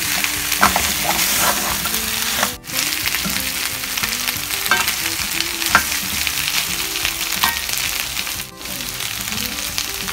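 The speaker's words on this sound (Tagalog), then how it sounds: "Igisa lang natin yung ating tomato paste." Tomato paste sautés in a hot pan for a pork kaldereta, a loud, dense sizzle with scraping stirs throughout and no talking.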